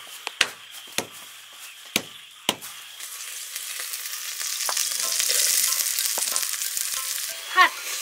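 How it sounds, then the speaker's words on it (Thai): Sweet, non-bitter bitter melon stir-fried in a pan at a forest camp with no electricity, a steady close sizzle building midway, punctuated by several sharp clacks of utensils early on and a brief clatter near the end. "ก็จะทำเป็นผัดมะระหวานอันนี้เป็นมะระที่ไม่ขมเลยอ่ะ"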